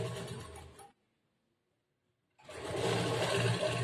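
A sewing machine stitches a churidar top in two close, busy bursts of mechanical whirring, separated by about a second and a half of silence.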